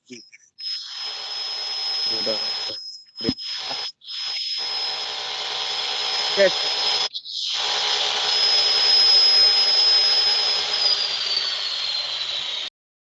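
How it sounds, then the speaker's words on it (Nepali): An electric drill machine runs nearby in front of a house, a steady high-pitched whine that continues for about twelve seconds with a few brief breaks, and faint voices can be heard under it. "ड्रिल मेसिन चलाउँदैछ कि क्या"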